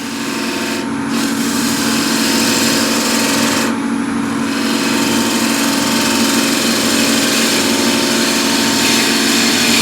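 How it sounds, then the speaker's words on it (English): A wood lathe turns a spindle while a 10 mm spindle gouge cuts, giving a loud, continuous rasping hiss over the motor hum with two brief dips as the tool lifts off. "This is 10 mil spindle gouge. I'm just going to make one more cut here."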